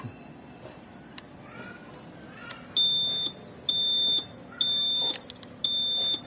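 An electric bike's danger warning signal beeps four times in a regular rhythm, each shrill, loud tone lasting about half a second, with faint clicks and background noise between them.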